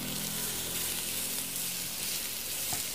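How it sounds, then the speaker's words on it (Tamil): Potatoes for an anchovy curry sizzle steadily as they sauté in oil, a continuous close hiss that holds evenly for about three seconds with no talking. "இப்போ ஒரு 5 நிமிஷமாக நாங்கள் இந்த கிழங்கை வந்து அப்படியே எண்ணெயில் வதங்க வச்சுருக்கிறோம்."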